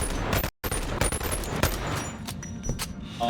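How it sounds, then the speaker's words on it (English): Rapid automatic bursts from an Uzi-style automatic pistol in the VR game Boneworks, loud and close, with a brief gap before the firing resumes and tails off into scattered shots. "Have the option of a kind of a Uzi. These are basically automatic pistols."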